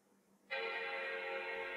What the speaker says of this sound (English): At least we just heard the boot chime, already a good sign.